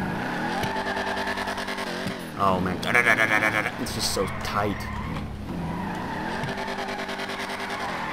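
A tuned muscle car in GTA revs hard, engine notes rising and falling with a squealing tire burnout in the middle, loud and close, while someone talks excitedly over it.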